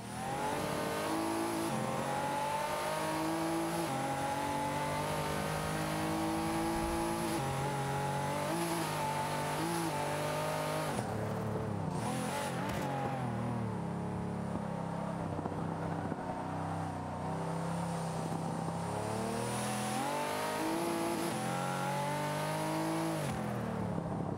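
Pagani Huayra supercar on a Nordschleife hot lap in Forza Motorsport 5, its engine loud and continuous, revving up and down through gear changes and corners with occasional tire squeal, nothing else audible.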